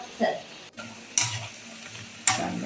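Veg mix bonda, a crispy tea-time snack, frying in oil while being turned over, with a low steady sizzle and a few sharp scraping stirs of a utensil against the pan.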